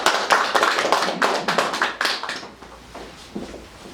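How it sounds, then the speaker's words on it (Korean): Audience applause welcoming a lecturer to the stage at a business presentation, a couple of seconds of lively, close clapping that quickly dies down to a few scattered claps. "박수 부탁드리겠습니다"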